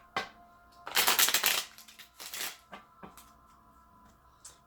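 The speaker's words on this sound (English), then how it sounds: "One more shuffle," Tarot cards being shuffled in two quick riffling bursts, followed by a few softer taps and shuffles, close and fairly quiet.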